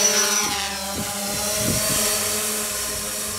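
A DJI Phantom 4 drone's motors whine steadily during takeoff, a close, even buzzing drone with layered tonal hum and a few soft thuds underneath.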